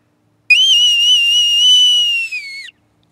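A boatswain's call pipes the carry-on, a bright, shrill warbling whistle held for about two seconds with a rapid trill, loud and close, alone against silence.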